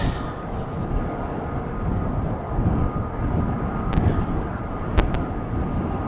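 British Airways airliner approaching Amsterdam Schiphol Airport, a steady loud broadband jet roar with wind buffeting, holding fairly constant across the few seconds.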